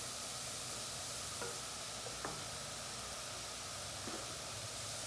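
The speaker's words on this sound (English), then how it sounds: "Saute the onions till they are soft" Onions sautéing in a pan for a vegetable lasagna sauce give off a faint, steady sizzle like soft hiss, with a few light stirring scrapes and taps scattered through it.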